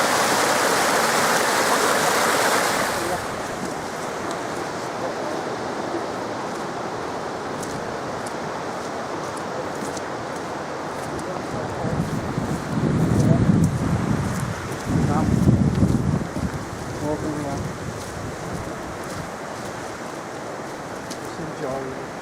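A fresh-water stream flows at Kielder during wild camping, giving a steady rushing, splashing wash throughout with brief gusts and faint, indistinct voices in the background.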